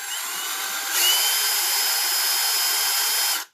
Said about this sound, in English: here's what my impact tool sounds like